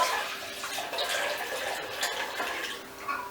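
Raw kombucha is poured into a fermentation jar, a gurgling, splashing trickle of liquid that rises and falls unevenly in bursts and stays fairly close and clear.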